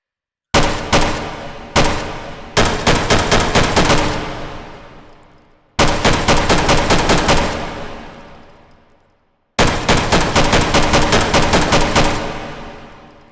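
Rifle gunfire in the VR shooting game H3VR, the weapon set to semi-automatic: three loud bursts of rapid shots, each train of cracks ringing out with a long decaying tail, no talking.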